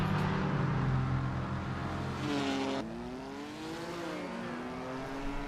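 Cars accelerating in Assetto Corsa on a track, engines droning loudly, then a rising rev sweep with gear changes as the pitch climbs and settles, steady and close with no voices.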